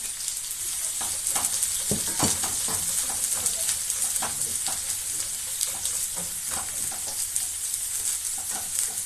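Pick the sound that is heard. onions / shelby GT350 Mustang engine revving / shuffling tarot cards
onions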